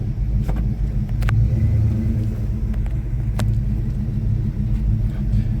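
A Chevy C10 pickup truck engine rumbles steadily from inside the cab while driving, with a deep, continuous drone and a few faint clicks over it.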